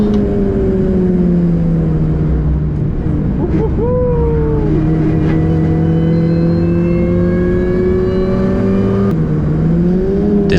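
A Mini Cooper S R53 lapping a race track on a track day, its engine droning loud and close from inside the car with rising and falling revs, a brief dip around gear changes, and a constant whine over the roar.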